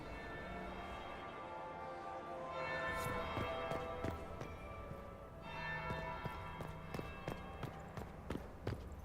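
A bell tolls at a fantasy palace ball in the video game Dragon Age: Inquisition, with sustained ringing tones and scattered sharp strikes over quiet background music.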